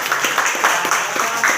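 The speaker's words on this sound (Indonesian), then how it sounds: "Beri aplaus." A classroom group claps together, a steady dense patter of many hands lasting under two seconds, loud and close.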